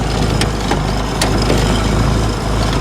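Diesel golf cart engine running steadily after a cold start, a close, continuous low rumble with a few faint ticks and knocks and no talking.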